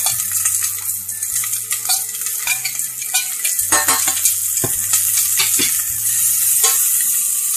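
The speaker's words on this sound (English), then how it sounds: "We're about to put the onions and the hamburger meat. We're going to cook this down a little bit." Onions and hamburger meat sizzling in a pan for a cabbage casserole, a loud continuous crackling fry with bursts of spitting and scraping as the food is stirred, close up with no talking.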